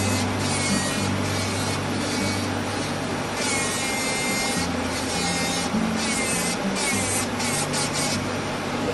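Fine green wood-carving comb rasp filing a carved black-capped chickadee, with close, steady scraping strokes repeating back and forth throughout.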